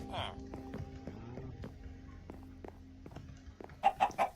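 A Minecraft chicken clucks nearby in short repeated bursts, over steady background music with clicking sounds, and a brief voice at the start.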